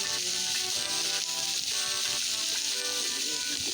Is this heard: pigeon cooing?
no